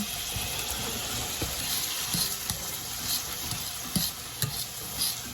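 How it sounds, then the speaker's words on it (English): Jamaican tun cornmeal with coconut milk fries in a pot, a steady close sizzle broken by scattered stirring scrapes and clicks, with no talk. "I am going to allow this to fry."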